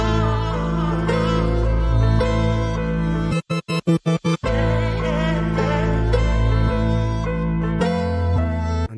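A dark melody sample, chopped up and rearranged for a beat, plays loud and full with sustained harmonic tones, broken midway by a run of rapid stuttering cuts before the phrase resumes and a short gap near the end.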